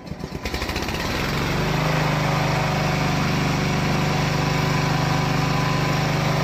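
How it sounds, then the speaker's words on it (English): The gasoline engine of a VIVGORUN VTLM600 remote mowing tank is pull-started, sputtering through a few quick cranks before catching. It then settles into a loud, steady, buzzing idle close by, with no talking. "there are three methods to start the gasoline engine."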